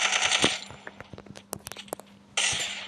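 Rapid gunfire from a shooting video game crackles in sharp bursts and single cracks, with louder stretches at the start and end and a quieter patch of spaced shots between.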